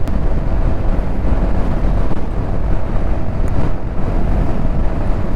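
Steady, loud rush of wind buffeting the microphone with a low engine drone underneath, from a motorcycle cruising at about 80 km/h on an open highway.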